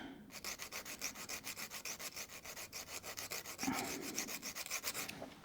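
Rhythmic rasping strokes of a metal drill bit grinding against an abrasive sharpening paddle, repeated in a steady back-and-forth cadence, close up and fairly quiet.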